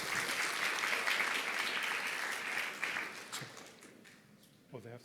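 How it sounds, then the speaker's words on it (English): A conference audience at a palliative care gathering in the Emirates applauds steadily, a dense clapping wash that fades out after about four seconds before a voice begins speaking. "Round of applause."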